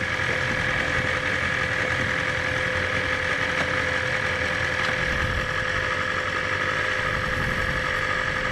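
A 2020 BMW S1000RR motorcycle engine runs steadily at idle, a constant close mechanical drone with a faint whine and no talk over it.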